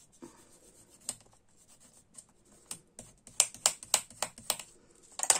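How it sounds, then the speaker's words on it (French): A bone folder pressed and drawn along folded paper in a papercraft project, giving a run of short, sharp scraping and tapping strokes, sparse at first and then quicker and louder, close by with no talk. "On prend son plioir. On appuie."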